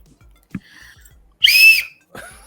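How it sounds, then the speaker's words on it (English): A shrill, loud blast from a nun's whistle used as a game-show buzzer, lasting under a second, with a quieter squeak afterward and faint background noise. "It is a nun's whistle."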